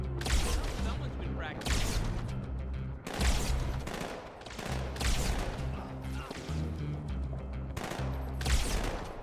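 Gunfire in Halo 2 comes in repeated bursts of rapid, loud shots with short pauses between volleys, close and punchy, while a voice talks over some of the shooting.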